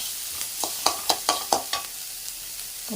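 Crushed vegetables, including turkey berries for chutney, are sautéed in a pan; a constant sizzle sits under a rhythmic series of sharp spoon-on-pan stirring clacks, close and clear.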